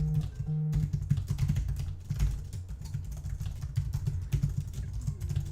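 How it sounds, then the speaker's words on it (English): Fingers type fast on a computer keyboard during a timed coding contest, a close, busy patter of key clicks with brief pauses and no voices. "And obviously you shouldn't look at the keyboard when you're typing."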